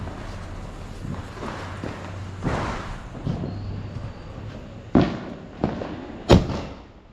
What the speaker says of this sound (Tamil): தரமாக வானவெடி அடிச்சுக்கிட்டே இருக்க போகிறோம்.